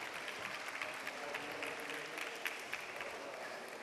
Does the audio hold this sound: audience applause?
yes